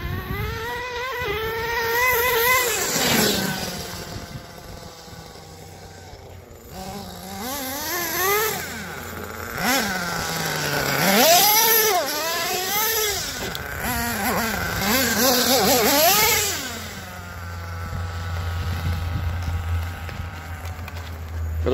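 A Redcat Earthquake 3.5 nitro RC car engine runs loud and close, whining up and down in repeated revving bursts with rising and falling pitch, easing off between runs and climbing over rocks.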